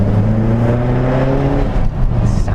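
A Subaru WRX blobeye's engine runs loud and close with a steady, sustained drone that swells slightly at the end, with no talking over it.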